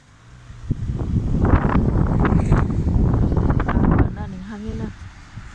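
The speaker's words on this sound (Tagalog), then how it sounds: "Ning hangin na." Wind buffets an outdoor microphone on a walk through a neighborhood, a rough, roaring gust that rises for about three seconds and then drops away as a voice talks.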